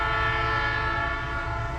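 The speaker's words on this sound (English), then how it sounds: "But got a train coming down the line here." A long Cincinnati Eastern Railroad freight train on the old Norfolk and Western line sounds its horn in a steady, loud blast while the train rumbles past close by.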